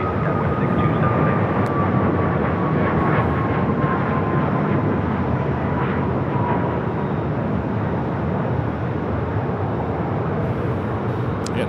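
A jet airliner takes off from Phoenix Sky Harbor airport, its engines a loud, steady, broadband roar that holds throughout with a faint descending whine on top, and no voices.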